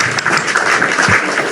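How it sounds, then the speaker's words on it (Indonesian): A short burst of clapping rises during an evening live talk show, fairly loud and brief, lasting only a moment before the conversation resumes. "Oke, tepuk tangan."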